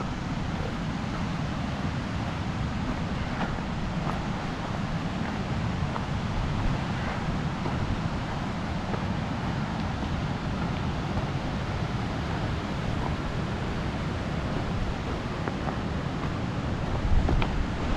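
Wind sweeping through a cold valley on the Wonderland Trail near Mount Rainier, a steady low roar buffeting the microphone for the whole stretch, with a brief stronger gust near the end.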